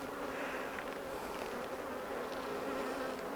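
Honey bees buzz in a dense, steady swarm hum close by while a hive is opened for inspection on the first day of spring, with no talking.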